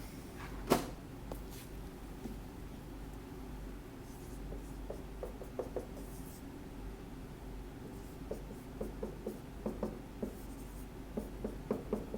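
A pen or stylus writes on a board or tablet in a quiet room, giving a run of soft scratchy strokes and light taps that continue steadily throughout, with no talking.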